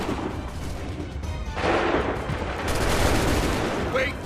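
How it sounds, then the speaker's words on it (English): Dense musket gunfire from an Assassin's Creed 3 battle, a steady roar of overlapping shots that swells louder halfway through, with shouted voices under the din. "Open fire! Prepare yourself. Fire now!"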